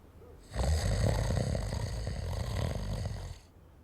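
A person snores loudly and steadily through the clip, deep rasping breaths rumbling close by with no talk over them.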